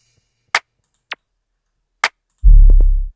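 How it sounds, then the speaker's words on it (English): A short electronic clap sample hits several times in an FL Studio beat, sharp isolated snaps spaced apart, followed by a booming 808 bass note. "a clap, nothing crazy"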